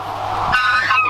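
A single goose on a farm gives a loud, close, nasal honk lasting about half a second, with a low hum underneath.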